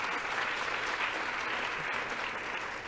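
Audience applause fills a room at an Asian American foreign affairs leadership dinner, steady and sustained clapping from a sizable crowd throughout, close and even in loudness.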